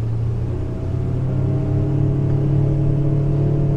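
A Mercury 90HP outboard pushes a Bayliner 160 bowrider at full throttle, a loud steady engine drone with a strong low hum and slight rising pitch, alone on calm water.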